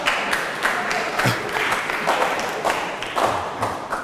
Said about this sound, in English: A couple of people clapping.